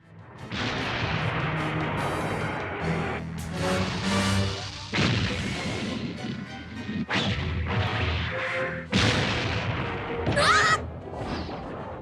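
Explosions in the 1980s anime Giant Gorg, set on an island inhabited by aliens: a run of loud, close blasts and crashing impacts, each followed by a heavy rumbling roar that keeps the whole stretch dense and noisy.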